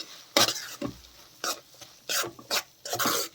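Sev biranj with cardamom powder, cashews, almonds and raisins stirred in a pan, a series of distinct scraping strokes of a spoon against the metal with brief pauses between them, close and fairly clear; no speech.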